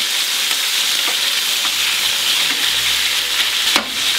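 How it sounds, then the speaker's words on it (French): Beef browns in a hot pan with a loud, steady sizzle, a few clicks of stirring and a brief clatter near the end. "Je fais colorer la viande."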